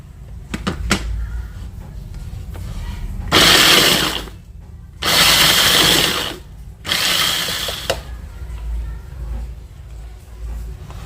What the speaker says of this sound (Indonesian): Sekarang akan saya chop ini cabai merah keriting, kemudian cabai rawit merah, cabai rawit hijau, dan bawang merah.